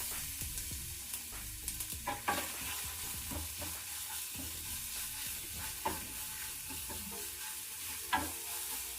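Green chilli and garlic paste frying in hot oil with mustard seeds and cumin, a steady dense sizzle with scattered spoon scrapes and taps against the pan, no voices.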